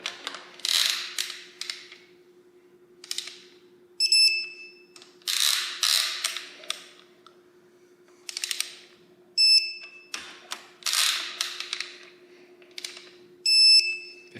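Short electronic beeps from a digital torque wrench sound several times among rustling and clicking handling noises, with a faint steady hum underneath, during Toyota 2JZ engine work.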